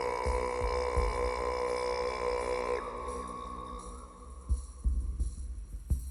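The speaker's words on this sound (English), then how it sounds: "Okay, throat singing." Throat singing in a song: a steady, low droning voice rich in ringing overtones holds for about three seconds, then drops away, leaving softer thumping beats.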